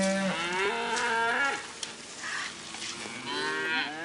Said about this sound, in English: All right, everybody see the cows over there?